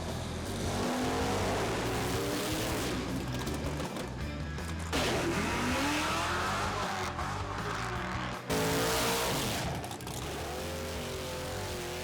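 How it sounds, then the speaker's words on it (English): Fast race cars roar past at a drag strip in a series of loud, close passes, each engine howl rising and falling in pitch as the cars accelerate by. "A lot of fast cars."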